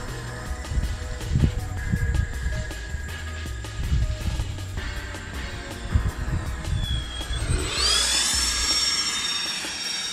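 Electric RC F-14 model jet making a high-speed pass downwind, a steady whining jet roar that rises sharply in pitch and sweeps past near the end, with constant motor noise throughout.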